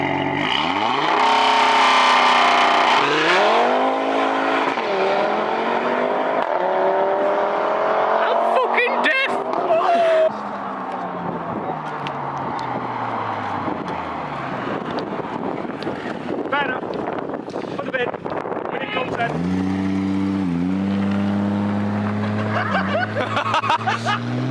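A car at a Hull dock car meet doing a burnout, its engine revving high and loud with rising and falling pitch sweeps over gusting wind noise, while onlookers talk and laugh.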